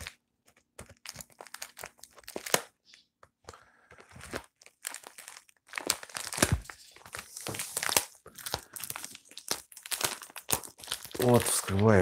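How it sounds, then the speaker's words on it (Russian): Crinkling and tearing of a taped plastic bag holding a wristwatch, close by, irregular rustling bursts that grow louder and busier toward the end. "Вот, вскрываю пакетик."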